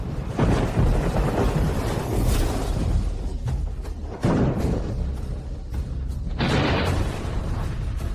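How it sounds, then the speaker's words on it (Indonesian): Deep rolling thunder for a staged lightning trial in a martial cultivation drama, with loud booming rumbles and sharp cracks repeating across the whole stretch, dense and close with no voices. "Itu ujian petir."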